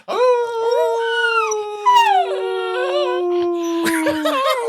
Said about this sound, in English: I'm going to get my dog to start howling here if I keep doing that.